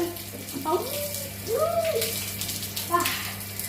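Water runs and splashes steadily while a bicycle is washed at home, with a continuous hiss throughout and faint voices in the background.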